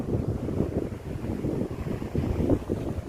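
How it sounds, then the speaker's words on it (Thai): Steady wind gusts buffet the microphone at a mountain viewpoint in Chanthaburi, Thailand, a continuous low rumbling roar with no break across the stretch. "โอ้ยดีมากลมเย็นสบายกันเลยครับ"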